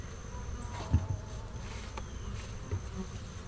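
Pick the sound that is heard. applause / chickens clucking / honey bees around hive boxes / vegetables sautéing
honey bees around hive boxes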